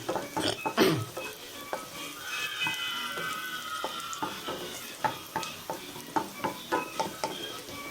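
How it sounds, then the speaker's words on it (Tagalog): Onion and garlic sautéed and stirred in a pan for chicken afritada: steady sizzle with repeated scraping stirs and clinks of a utensil against the pan, close and moderately loud, no talking. "Halo-haloin hanggang sa maging medium brown."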